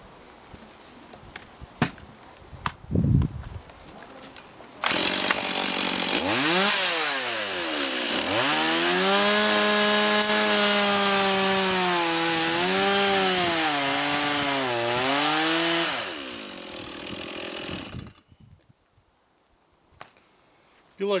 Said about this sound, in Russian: Пила не пилит, цепь тупая.